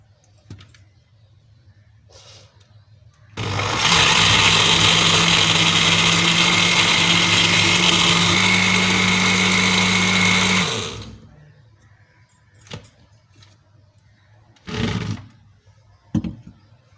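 A mixer grinder blends falsa berries with water and sugar for juice, a loud, steady whirring roar running about seven seconds, with faint clatter and knocks before and after.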